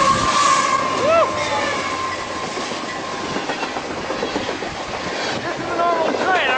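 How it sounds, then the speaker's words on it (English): A freight train carrying cargo and oil containers passes close by a station in Rochester, New York, with rhythmic clickety-clack of wheels over rail joints, metallic squeals and a steady rumble, someone talking over it. "This is a normal train which you see all the time,"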